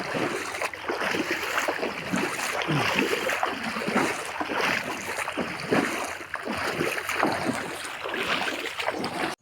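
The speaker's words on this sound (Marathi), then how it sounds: "बघा पाण्याचा आवाज कसा येत आहे ते" Knee-deep water flows through a farm field, a continuous rushing and splashing stream heard up close without pause, with no talking.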